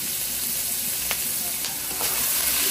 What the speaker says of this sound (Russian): Мы обжариваем лук и морковку.